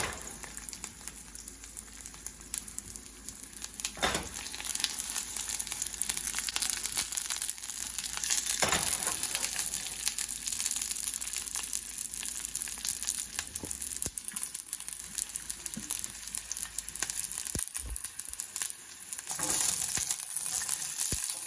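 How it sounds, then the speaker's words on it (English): Garlic and pine nuts sauté in olive oil, a steady close sizzle with crackling bursts and occasional scraping stirs, continuing without speech. "I'm going to saute it in olive oil, and also I'm going to mildly saute the pine nuts."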